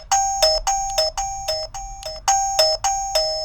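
Chime from an XTU J10 doorbell camera set to maximum volume: a bright, loud electronic ding-dong melody of about eight quick repeating tones, each a clean ringing note with strong overtones, played alone and up close.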